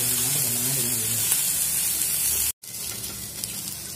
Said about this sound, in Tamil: பீர்க்கங்காய் நல்லா வதங்கிடுச்சு.